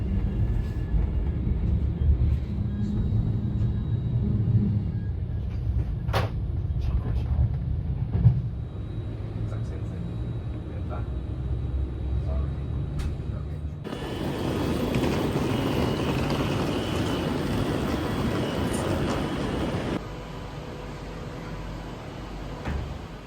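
Avanti train travelling from Birmingham to Coventry, a continuous low rumble of onboard running noise that later turns into a louder, brighter rushing roar, with no talk.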